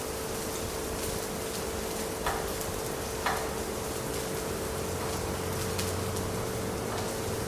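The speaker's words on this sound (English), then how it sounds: "it's caramelizing the onion" Onions sizzle and caramelize in a pan, a steady close crackling hiss with occasional sharper pops and a soft stir or two, and no talking.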